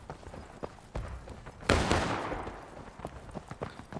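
Musket gunfire from a War of Rights battle: scattered distant shots crackle in the background, then one loud, close musket blast rings out and fades slowly, followed by more faint shots popping at a distance.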